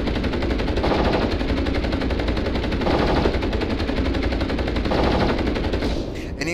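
Sustained, rapid weapons fire from the MechWarrior Online video game, a dense continuous barrage of shots held at steady loudness for about six seconds before easing at the end.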